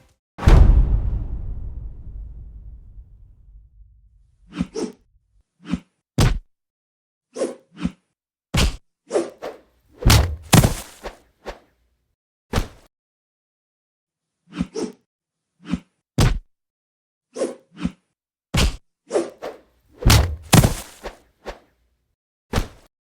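Cartoonish whacks, thuds and swishes land one after another in quick irregular bursts, following an opening boom that fades away.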